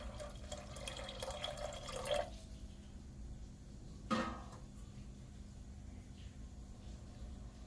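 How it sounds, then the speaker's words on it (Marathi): Water poured from a vessel into a pressure cooker holding green peas, a quiet splashing stream for about two seconds, then a brief second pour, faint against a low room hum. "त्याच्यामध्ये मी पाणी अजून ऍड करणार आहे"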